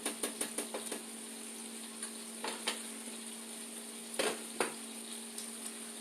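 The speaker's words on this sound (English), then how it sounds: "So we're going to keep stirring these grits" Grits being stirred in a pot, a faint, quiet scene where a spoon scrapes and taps the pot in a quick run of knocks early on, then occasional scrapes over a soft steady hum.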